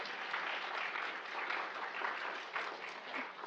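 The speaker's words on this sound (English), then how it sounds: "Can we please give Dr. Kathleen Kozak a big round of applause?" An audience at a COPD education day gives a speaker a round of applause, heard as continuous, somewhat distant clapping at a moderate, fairly even level.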